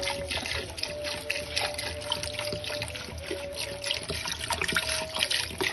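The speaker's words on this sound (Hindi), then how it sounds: "ये मैं इसमें पानी ऐड कर रहा हूँ।" Water poured from a 1.5-litre bottle into a cooking pot of mutton paya with spices, a steady splashing trickle that continues throughout at moderate volume.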